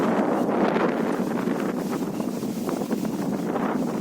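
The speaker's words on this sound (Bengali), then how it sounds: "কিন্তু ব্যাপক জোরে জোরে বাতাস হচ্ছে। আর বাতাসের শব্দটাও অনেক বেশি।" Strong, steady gusting wind from Cyclone Remal sweeps across a village, roaring and buffeting the microphone continuously for the whole stretch, with no voices.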